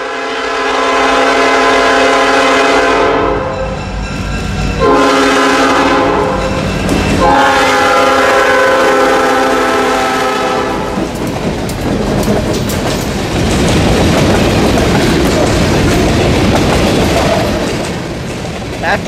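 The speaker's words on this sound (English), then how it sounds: "We're basically catching a 70-year-old locomotive that's still on the well." A 70-year-old locomotive on Escanaba and Lake Superior trackage sounds several long blasts of its horn, then rumbles past with rhythmic clickety-clack of wheels, loud and close, as people talk in the background.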